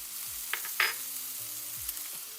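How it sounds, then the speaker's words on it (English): Red onions sizzle steadily in a pan as they begin frying for a sweet potato breakfast hash, a soft continuous hiss broken by a few brief stirring clicks, with no voices. "So we're gonna put the red onions first, so that can start to cook down."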